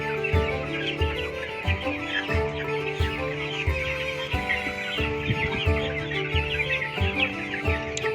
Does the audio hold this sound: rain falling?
no